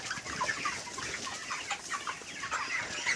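Broiler chickens cluck and chatter steadily in a poultry farm with straw litter, the birds around 25 days old, a dense overlapping flock sound close by with no voices.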